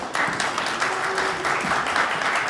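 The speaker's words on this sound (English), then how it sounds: "Let's give them a round of applause" Audience applause for children from a weekend Tibetan school after their performance at a Nobel Peace Prize anniversary celebration for the Dalai Lama; a steady, dense wash of many hands clapping throughout, fairly loud and with no talk over it.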